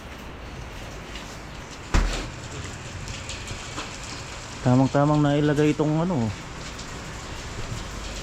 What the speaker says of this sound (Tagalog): Bah, umuulan pala.